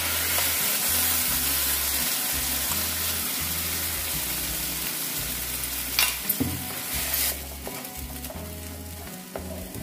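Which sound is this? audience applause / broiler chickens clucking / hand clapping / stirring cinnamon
stirring cinnamon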